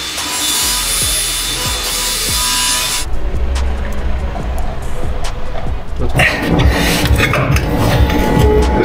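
Scraping, rasping strokes of a hand file worked over metal bodywork on a BMW E46 convertible drift car project, repeated in a steady rhythm amid workshop clatter, with talk nearby.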